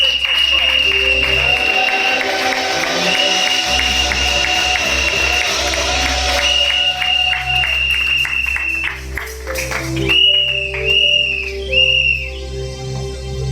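A church congregation acclaiming at a worship gathering, with long shrill whistles over a bed of crowd noise and scattered clapping, while voices carry through.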